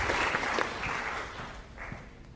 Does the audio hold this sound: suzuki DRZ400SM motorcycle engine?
no